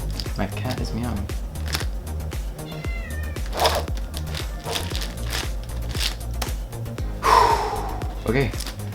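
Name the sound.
cat meowing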